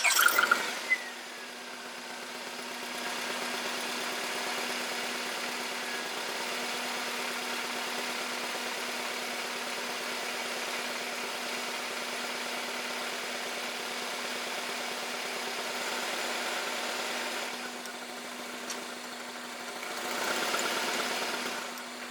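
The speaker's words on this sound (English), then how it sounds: "let me start the car, and then I'm gonna shift the car in all the gears" A 1998–2002 Honda Accord engine idles steadily with a low, even hum and light vibration, shifting briefly in tone near the start and again toward the end as the gears are changed; no voices.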